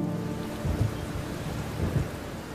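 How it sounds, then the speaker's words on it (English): Heavy monsoon-style rain falls continuously with low rumbles of thunder swelling twice, a thick steady downpour with no voices. "It has been raining heavily for the past 3 days."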